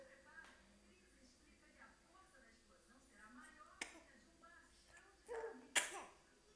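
A baby gives a small, sharp sneeze near the end, after quieter earlier sounds, while an adult talks softly to the baby nearby.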